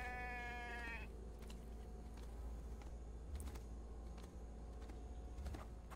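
A sheep bleats in a video game, a short harmonic call at the very start over a steady, busy game soundscape of clicks and ambient noise, with no one talking.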